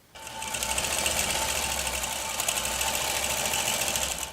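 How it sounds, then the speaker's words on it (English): Electric sewing machine stitching a quilt block, running steadily and continuously at close range with a fast whirring mechanical hum and rapid needle chatter, no talking. "I am now ready to start stitching."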